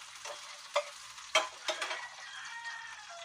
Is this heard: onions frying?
yes